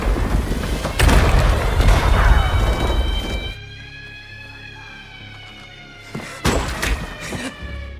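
A landmine explosion sound effect for a story of prisoners fleeing a Nazi camp: a deep heavy boom rolls out, fades into a thin ringing, and then a second booming blast follows.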